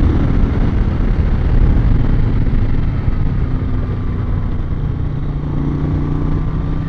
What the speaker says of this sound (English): The engine's got so much more character than the Greaso.